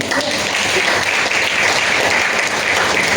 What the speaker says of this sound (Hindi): बजा सकते हो ताली